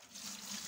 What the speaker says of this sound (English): Let me wash my hands by this bucket of mine here. I pour some water